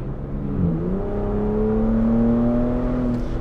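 The exhaust of a Ford Bronco Raptor in sport mode gives a steady, droning engine note that climbs slightly in pitch as the engine revs, heard from inside the vehicle without talk.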